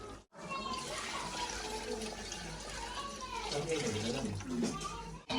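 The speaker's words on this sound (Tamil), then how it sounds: "நாங்கள் அரிசியில் ஊற விட்ட தண்ணியை வந்து விடுவோங்கிட்ட" Soaking water from rice poured into a pot of boiling chicken biryani curry, a steady continuous splashing pour running for several seconds, close and fairly loud.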